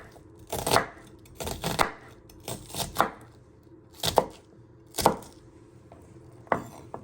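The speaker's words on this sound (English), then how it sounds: "Then you turn it around, and then you just want to finally slice it." A knife slicing an onion on a board, several distinct crisp cuts ending in knocks, spaced about a second apart, close and loud with no talking.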